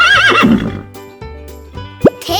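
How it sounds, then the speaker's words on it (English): A horse neighs with a high, wavering whinny that drops into lower snorting pulses, followed by a few soft thuds and a short squeal, loud and close with no talk. "How does a horse sound?"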